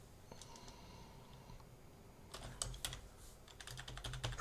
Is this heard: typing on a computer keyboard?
yes